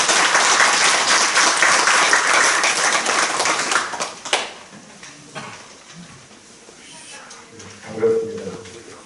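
A church audience gives loud applause to welcome a pastor to the stage, dense clapping that runs about four seconds and then breaks off into scattered claps, with a voice speaking afterward.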